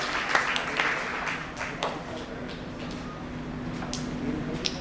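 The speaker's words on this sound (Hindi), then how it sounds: "मुस्कान के लिए जोरदार तालियां" An audience at a network marketing training session in Meerut claps, with a burst of applause that thins out into scattered claps, while voices talk over it.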